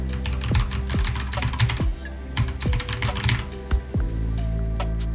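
Keystrokes on a computer keyboard during a UART debugging session, a run of quick clicks in short irregular bursts, close and clear with a steady electronic hum beneath and no talking.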